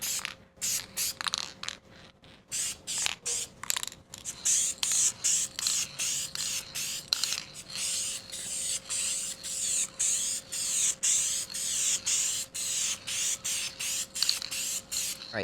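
A spray can lays a primer coat on a guitar body, a close, steady series of short hissing bursts in a quick repeating rhythm, with faint mechanical clicks and a low background hum.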